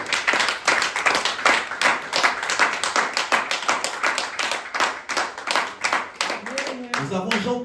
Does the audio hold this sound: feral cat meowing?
no